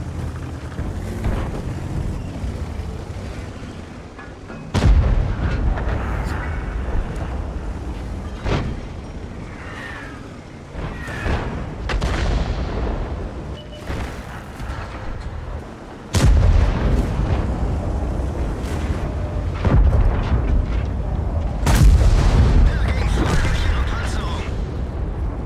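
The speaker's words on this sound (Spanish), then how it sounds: "Acabo de pegar un tiro a larga distancia con este tanque." A Pz.Kpfw VII Tier X German heavy tank in World of Tanks fires its cannon at long range: loud booming shots and rumbling blasts over ongoing battle noise, with someone talking throughout.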